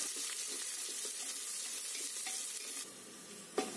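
Chopped onion frying in a pan over a medium flame, a steady close sizzle with soft scraping as it is stirred, ending in a sharper clink of the spoon.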